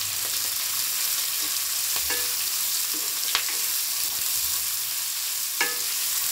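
Finely chopped onion fries in oil in a pan with a steady loud sizzle, and a utensil stirs it with a few soft scrapes and taps.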